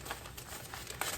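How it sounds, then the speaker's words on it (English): A sheet of paper is folded during a cross-stitch session, giving a short run of close, dry crinkling and crackling with a sharper crunch near the end. "I gotta fold my piece of paper, it ain't gonna fit."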